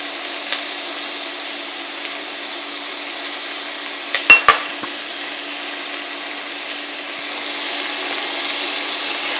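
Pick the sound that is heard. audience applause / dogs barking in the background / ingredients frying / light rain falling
ingredients frying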